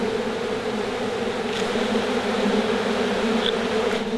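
Honeybees swarming on an orange tree buzz in a steady, dense drone after being shaken from a branch, close and continuous with no talk.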